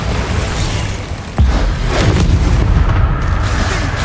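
A Bombarda spell explosion in the video game Hogwarts Legacy: a sudden deep boom erupts partway through, then a loud rumbling blast sustains over steady background combat noise.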